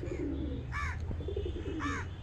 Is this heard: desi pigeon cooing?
yes